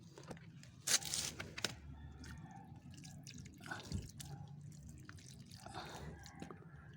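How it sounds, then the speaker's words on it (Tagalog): Water trickles and drips onto soil around a freshly transplanted mulberry cutting, faint scattered splashes and drips with a brief louder burst, quiet and close outdoors. "So didiligan natin po siya ng mabuti"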